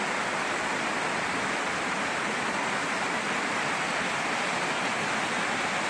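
Waterfall pouring into the base of a drainage creek near Shelton on a rainy day, a steady, close, broadband roar of rushing water that fills the whole stretch without pause.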